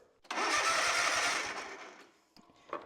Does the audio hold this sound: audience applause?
no